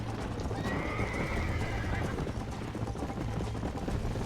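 A horse whinnies briefly in the video game Red Dead Redemption over a steady, dense wash of noise, with hooves and game-like ambience rumbling throughout.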